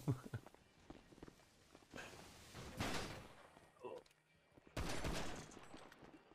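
Gunfire from a weapon in the video game GTA, bursts of rapid shots and noisy blasts at moderate level, mixed with footsteps and some talk.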